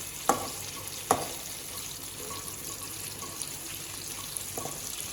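Small tomatoes are sautéed for a lentil-ball curry, a soft, steady sizzle in the pan broken by two sharp knocks of a utensil early on and a faint clink near the end, close and quiet.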